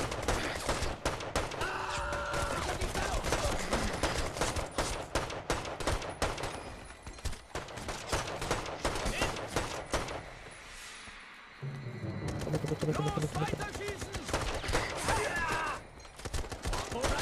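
Shooter-game gunfire from Brothers in Arms 3, dense and loud with rapid shots and volleys running almost nonstop, a brief lull in the middle before the firing resumes.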